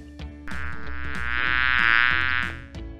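A bee buzzing steadily and fairly loudly for about three seconds, the drone swelling in the middle and fading at the end, with a few faint clicks and thumps underneath and no voices.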